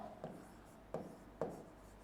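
A marker writes on a board in a quiet classroom, giving a soft squeak and then two sharper strokes about half a second apart. All three are faint.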